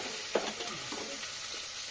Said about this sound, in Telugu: ఇవైతే బాగా ఫ్రై కానివ్వాలా.